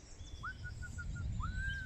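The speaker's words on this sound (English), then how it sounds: "It's a wren" A wren sings in a UK dawn chorus: a run of evenly spaced, clear whistled notes followed by a long, sustained trill, moderately near over a steady bed of low background noise.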